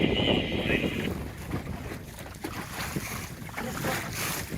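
Wind gusts roar across the microphone on a small sailboat out on Chequamegon Bay, with steady buffeting noise and water sounds nearby, loud and continuous.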